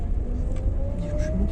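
A car driving along with steady engine hum and a slowly rising engine tone, heard from inside, close and continuous with no talk.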